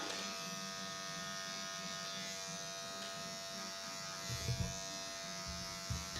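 Electric hair clippers buzz steadily while cutting a flat top haircut, a constant close motor whine with brief louder passes as the blades move through hair.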